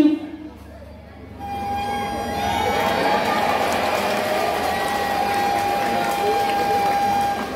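A sea lion at a show at the Ancol attraction blows a trumpet, holding one long, steady note for about six seconds over a murmuring crowd.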